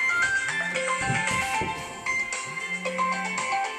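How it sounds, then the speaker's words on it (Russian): A phone in a home kitchen rings with a melodic electronic ringtone, its bright repeating tune of sliding and stepped tones playing loud and steady, with no talk over it. "Звонит телефон."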